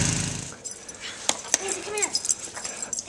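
Dogs playing outdoors in heavy snow during a February nor'easter snowstorm, with brief whimpers and short yips close by amid wind and shuffling noise, while a person talks over it.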